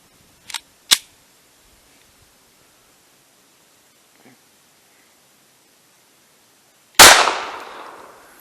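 A CCI Blazer 40 grain solid round is fired into ballistic gel, giving one loud, sharp gunshot with a decaying tail, preceded by a couple of faint clicks and near silence.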